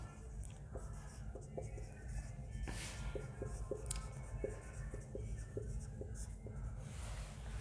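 Chalk or marker taps and scratches on a board during a classroom lecture on atomic structure, a faint series of light, irregular clicks over a quiet room hum.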